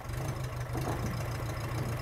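A restored Allett Mk1 lawn mower engine, still cold, idles steadily nearby, with a continuous low rumbling chug that holds at an even level throughout.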